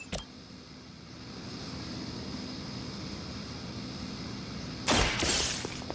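A Hydra helicopter in the video game Marvel's Midnight Suns gives a steady airy engine roar that holds for several seconds, then a sudden louder burst of crashing noise near the end.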